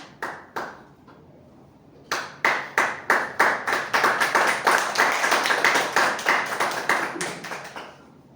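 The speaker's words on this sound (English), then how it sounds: "please welcome him to the best round of applause" A round of applause welcomes Toastmaster Neeraj at a Toastmasters club meeting: a few scattered claps, a short pause, then a fuller run of hand claps that thickens and fades.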